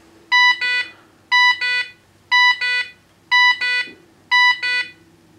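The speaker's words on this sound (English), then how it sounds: "It's going to beep here in a second once it errors out." A 2005 Pontiac GTO instrument cluster with an LS2 sounds an error alert after programming: five loud evenly spaced double electronic beeps, each a pair of sharp tones about a second apart, over a faint steady hum.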